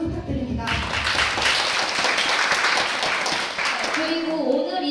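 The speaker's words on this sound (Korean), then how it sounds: "힘찬 박수 부탁드립니다" An audience at a Korean student broadcasting station's recorded festival show breaks into loud, sustained applause, a dense wash of many hands clapping that swells quickly, holds for several seconds, then fades as a voice resumes.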